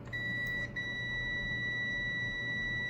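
A continuity tester sounds a steady electronic beep while checking a cord pigtail on a Hummel slow start unit, holding one long tone with a brief break near the start, close and clear with no talking.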